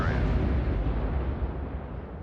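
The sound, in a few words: movie explosion in Superman 1978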